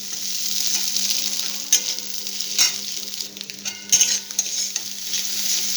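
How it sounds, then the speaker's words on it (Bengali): Chopped egg and potato stirred into frying onions: a bright steady sizzle with a few sharp scrapes and clinks of a spoon against the pan. "এবারে যে আমি ডিম আর আলু কেটে রেখেছিলাম ছোটো ছোটো করে, সেইটাকে আমি ভালো করে এর সঙ্গে মিক্স করব।"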